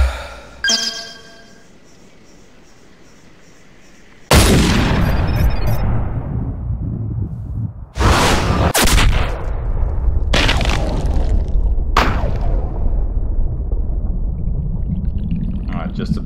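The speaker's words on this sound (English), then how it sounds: "Long shot, nice and clean." Rifle shot at a mule deer in Cabela's Big Game Hunter: one sudden, loud blast after a quiet stretch, followed by sustained rumbling noise and a few more sharp, close bangs.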